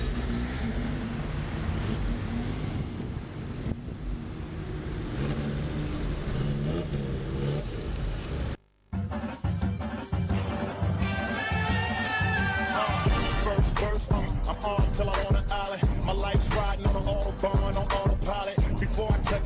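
Lotus sports cars setting off on a group Sunday drive in Thailand: a loud, continuous engine drone that breaks briefly, then returns with revving and accelerating roars nearby.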